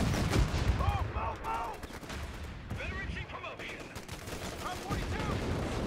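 Machine gun nest firing during a Company of Heroes 3 battle, rapid bursts of gunfire with scattered other shots and explosions, fairly loud and dense, with a voice speaking over the combat.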